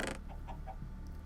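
Cartoonish chicken clucks from a modded Minecraft-style farm game, a few short soft calls in quick succession, fairly quiet under a steady low hum.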